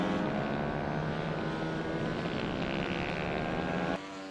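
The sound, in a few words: Ohvale 190cc minibike engine on throttle, onboard race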